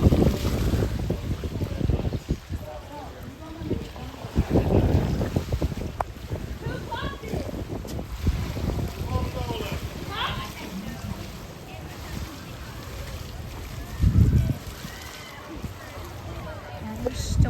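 Strong gusts during a severe thunderstorm by a river, with winds up to 40 mph roaring and buffeting the microphone continuously, while people talk over the rushing air.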